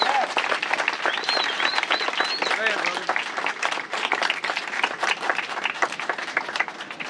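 Sustained applause and clapping from a crowd at an outdoor anti-police-brutality vigil in downtown Frederick, Maryland, dense and steady throughout, with a speaker's voice and scattered shouts over it.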